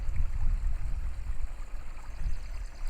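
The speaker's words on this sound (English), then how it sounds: "I hear the trickling of the water behind me, or the birds around my yard." Water trickles in a backyard stream, a low continuous burbling wash with a soft outdoor rumble, steady and moderately close with no voices over it.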